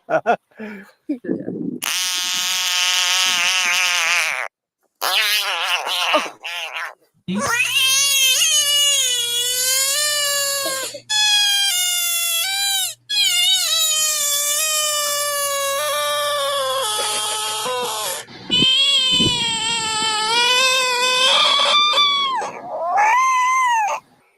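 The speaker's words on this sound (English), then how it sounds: "So here's multiple frogs, guys. Oh yeah, they sound like cats." Frogs giving loud, harmonic, cat-like wails and yowls in long repeated bursts separated by short silences, close and dominant, with a steady low hum beneath some calls.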